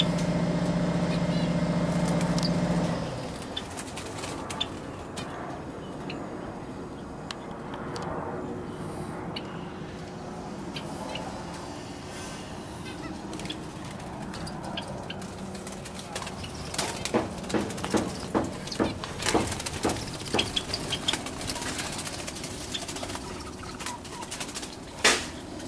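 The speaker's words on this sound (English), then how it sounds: "We got plenty of diamond doves." Diamond doves cooing in an outdoor finch aviary, their soft calls mixed with other bird chirps and small rustles, carrying on steadily at a moderate distance with no one speaking.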